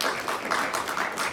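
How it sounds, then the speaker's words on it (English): Audience applause, a dense, continuous patter of many hands clapping, moderately loud and close, with no talk over it. "So I think he deserves a round of applause for that."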